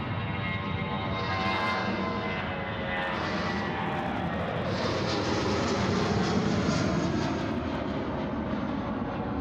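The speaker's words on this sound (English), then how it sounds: "We'll just capture this Jetstar now, getting sporty off 3-4 right." A Jetstar airliner takes off from runway 34 right at Sydney Airport, a loud, continuous jet engine roar that swells and shifts in pitch as it climbs away.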